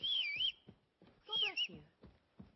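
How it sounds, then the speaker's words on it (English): A character in the video game Kingdom Come: Deliverance II whistles two short, bright, wavering phrases separated by quiet gaps, with faint thumps and low murmurs in between. "What are you whistling for?"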